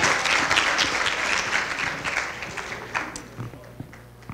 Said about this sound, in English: if we could please give a big round of applause to our two MCs